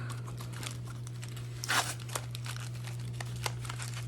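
Adhesive tape handled and torn for a clay craft project, one short ripping crinkle standing out over a steady low hum, with a few faint clicks before and after.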